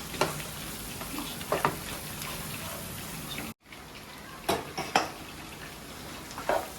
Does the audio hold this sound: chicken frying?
yes